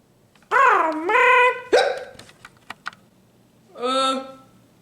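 Donald Duck's cartoon hiccups in a Disney Muppets episode, a few squawky, quacking voiced bursts followed by short clicky hiccup blips, then one more nasal squawk, fairly close and alone with no talk.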